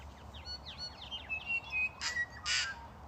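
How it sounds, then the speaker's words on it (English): Birds call faintly in the distance: tuis, dotterels and yellowhammers. Short chirps and whistles are scattered through the clip, ending in two brief, bright bursts near its close. No one is speaking. "We've got tuis, we've got dotterels, we've got yellow hammers, we've got kiddidoos."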